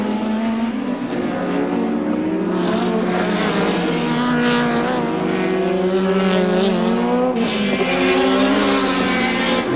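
Touring race cars lapping Mallala circuit during a 1989 ATCC round, engines droning loud and continuous with shifting pitch as cars pass, one notably noisy car among them, no talk over the racing.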